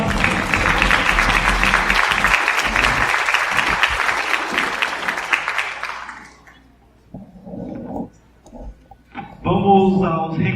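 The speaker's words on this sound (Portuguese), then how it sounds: "Uma salva de palmas." Applause from an audience at an astronomy lecture, a loud sustained burst of clapping lasting about six seconds before fading out, followed by scattered speech.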